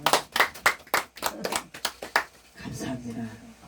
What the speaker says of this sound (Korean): 선교사님 목사님께 박수 드리겠습니다.